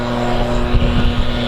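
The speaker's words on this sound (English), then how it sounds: "There's some people, landscapers out there with the leaf blower," Landscapers' leaf blower running outdoors, a continuous loud droning whine with a steady engine tone and no pauses.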